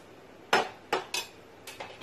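A metal lid set onto a pot of polao makes a few brief clanks and clinks, close and moderately loud, over quiet background with no talking.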